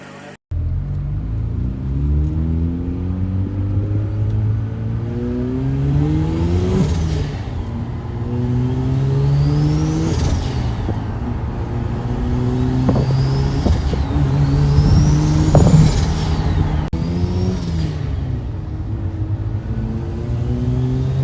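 A turbocharged Mazda RX-8 rotary engine runs steadily and loudly up close, its idle bouncing slightly as the pitch rises and falls in repeated revs with whooshing turbo whistles over a constant rumble.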